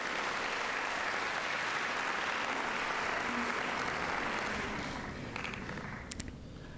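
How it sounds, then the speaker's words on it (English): Audience applause for engineering award winners at a junior science fair awards ceremony, a dense steady clapping crowd that holds loud for about five seconds and then thins and fades toward the end. "Let's give all of the engineering award winners another round of applause"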